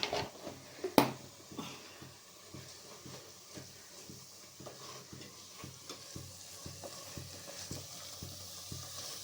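Chilli and coriander powders frying in hot oil, a low steady sizzle with a loud utensil knock near the start followed by a run of rapid rhythmic stirring scrapes, close and without talk.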